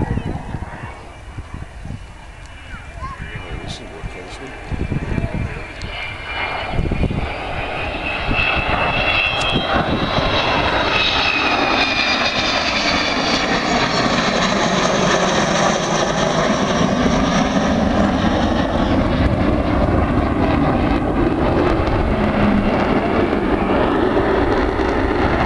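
Avro Vulcan XH558 jet bomber flying a display at the RAF Waddington airshow, its engine roar swelling loud and continuous as it comes back toward the crowd, with a faint announcer's voice early on.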